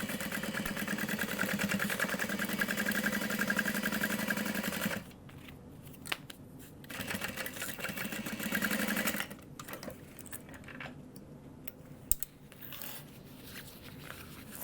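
Sewing machine top stitching a tote bag, its steady motor whir running loud and close for about five seconds, then stopping, followed by a second shorter burst of stitching amid quieter handling clicks.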